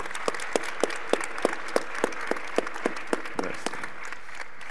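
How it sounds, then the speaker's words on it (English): Applause for a youth panel at a radio conference session: a few close, sharp, evenly spaced hand claps stand out over softer, sparse clapping from a modest audience. "A huge applause to our youth panel here"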